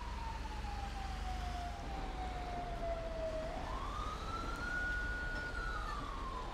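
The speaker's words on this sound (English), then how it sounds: "I've been trying to figure out where that siren has been coming from for like the past couple of minutes" Police siren in the video game GTA 5 wails in a long gliding tone that dips and then rises again, sounding steady and somewhat distant over a constant low rumble of background noise.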